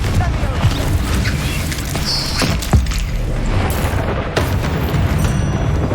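A Confringo fire spell in the video game Hogwarts Legacy explodes with a loud boom amid continuous battle noise, with sharp bursts and crackles during a spell-casting fight.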